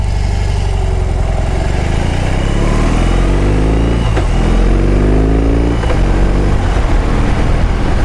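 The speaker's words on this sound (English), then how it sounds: "So here we go, the BMW R18." BMW R18 motorcycle engine running loud and close, a deep rumbling idle that rises into revving sweeps twice, with constant engine roar throughout and no talking.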